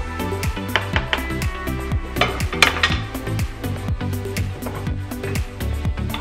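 A wooden spoon stirs rice in a cooking pot of not-yet-boiling water, giving close, repeated knocks and scrapes against the pot in a steady rhythm with no talk over it.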